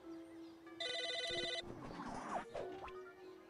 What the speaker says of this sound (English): It's a phone, buddy.